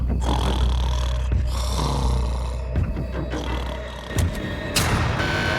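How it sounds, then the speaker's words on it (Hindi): A man snores loudly and steadily through the night in a prison cell, with deep rasping, snorting breaths that run continuously, close and alone without talk. "वो स्टूपिड कॉप सारी रात खर्राटे मारता रहा।"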